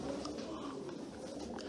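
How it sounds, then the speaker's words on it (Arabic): Soft cooing of a pigeon at a pigeon auction, a brief low throaty coo heard amid a busy background murmur, with no clear talking. "طير حمام قوي قوي"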